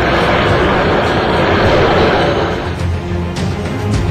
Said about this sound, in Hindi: जब हिंडन एयरबेस पर ग्लोब मास्टर आसमान में दिखा तो